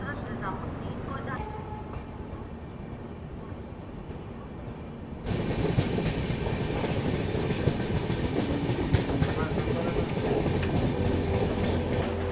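The Gondwana Express pulls out of Narmadapuram station, a steady loud rumble with clickety-clack from the wheels that swells as the train gets under way, while someone speaks over it.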